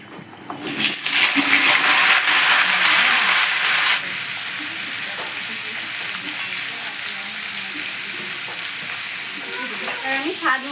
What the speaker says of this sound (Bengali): এবার আমি সব সবজিগুলো একসঙ্গে দিয়ে ভালো করে ভেজে নেবো